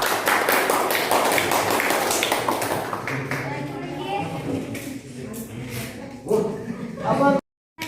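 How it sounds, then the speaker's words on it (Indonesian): A room of students at a vocational high school orientation claps for a classmate, a dense patter of many hands that starts loud and thins out, with voices talking over and after it. "Beri aplaus dulu temannya."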